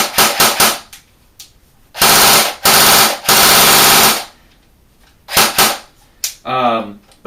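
An Apex R5 M12 bronze M4 airsoft AEG rifle fires loud, close bursts of rapid full-auto shots with gaps between them, ending in a short whirring mechanical rattle.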